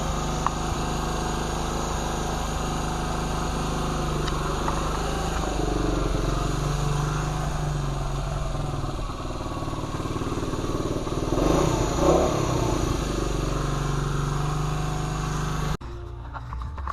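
A 1975 Honda CT90 motorcycle engine runs steadily nearby, a constant loud buzzing drone with a slight swell in revs partway through before cutting off near the end.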